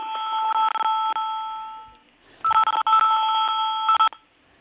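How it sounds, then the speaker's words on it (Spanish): A mobile phone rings during a Spanish-language conversation: a bright electronic ringtone in repeated bursts, loud and close, pausing briefly before a second run of rings, with no talk over it. "Me han llamado al móvil, lo tenía que haber apagado, lo siento."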